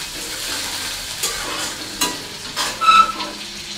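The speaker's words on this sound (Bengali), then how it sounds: "দেখো পেঁয়াজ দিয়ে দিলাম আর দিয়ে দিলাম লঙ্কা, যেভাবে ছোলা ভাজা করে আমি যেভাবে করি" Chickpeas being fried with onion and chili in a home kitchen pan, a steady low sizzle broken by a few scraping stirs and clinks near the end, no talking.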